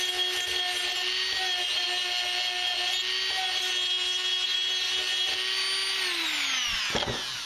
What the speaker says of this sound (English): I'm going to put the Dremel on about 20 RPMs